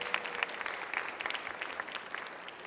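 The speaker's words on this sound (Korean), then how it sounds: "우리 임진묵 선생님께 박수 보내주시기 바라겠습니다" An audience of about two hundred at a science and creativity concert applauds a teacher, with many hands clapping in a quiet, fairly distant wash of sound that slowly fades toward the end.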